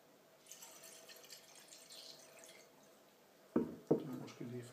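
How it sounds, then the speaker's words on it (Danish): Water is poured into a vase of cut flowers, a few faint splashes and trickles near the end after a quiet stretch with soft background sounds. "Så husk at hælde lidt vand i."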